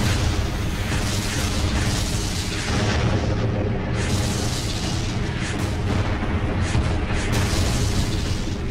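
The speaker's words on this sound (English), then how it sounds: "we were met with huge artillery fire" Heavy artillery fire during the Battle of Kursk, a dense, continuous roar of booming explosions blending into a loud, unbroken rumble.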